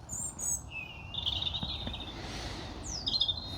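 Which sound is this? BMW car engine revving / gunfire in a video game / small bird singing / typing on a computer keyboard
small bird singing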